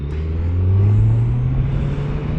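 2024 Kawasaki Z900 motorcycle engine while riding, a loud, close, steady low rumble whose pitch rises slightly as it pulls, with no talk over it.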